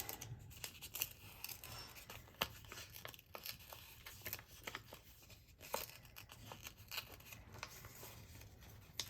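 Scissors snip steadily through a paper strip from a budget workbook, giving close, quiet crisp cuts with faint crinkling of paper and no talking.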